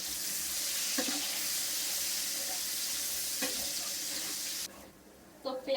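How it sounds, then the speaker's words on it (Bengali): Onions and onion paste frying together in a pan, a steady loud sizzle with a few stirring scrapes, close by, cutting out near the end. "আর একসাথে পেঁয়াজগুলো ভেজে নেবো।"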